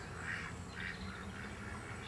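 Ducks at a lakeside carp fishing spot quack in a few repeated calls, moderately distant over a steady outdoor background hiss.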